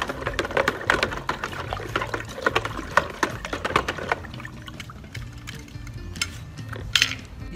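Pool chemical solution poured from a bag into a swimming pool: close clattering and splashing water at first, then easing into a quieter trickle with a few last sharp splashes.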